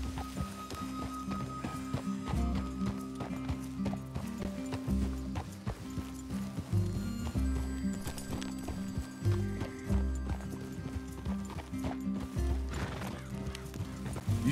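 Horses in Red Dead Redemption 2 clop steadily in a loud, continuous hoof rhythm, with occasional whinnies and neighs rising over the walking.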